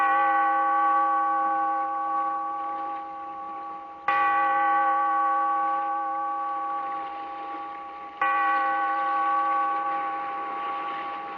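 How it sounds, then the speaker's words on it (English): A large, deep bell tolls three times at slow, even intervals, each stroke ringing out with a rich hum that fades gradually before the next, heard alone as a radio drama sound effect. "Bellkeeper, toll the bell, so that all may know we are gathered again"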